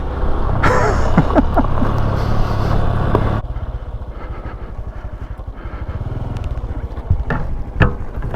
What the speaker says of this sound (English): Nothing stops the mighty Supercub.